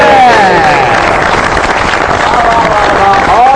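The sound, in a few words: audience applause welcoming Meera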